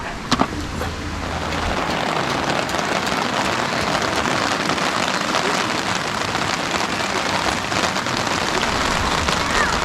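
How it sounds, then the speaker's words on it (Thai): Steady rain pours down on a tent campsite beside a stream at Ban Than Hiran in Suan Phueng, Ratchaburi, a dense, even hiss of drops on surfaces lasting the whole stretch with no talk. "ตอนนี้นะครับฝนก็ ตกลงมานะครับ ตามที่เราคาดหมายไปเลยนะครับ"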